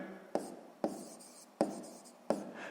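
Pen strokes scratching on paper while working a sixth-grade math exercise, four distinct writing bursts spaced evenly, close and fairly quiet with no talk.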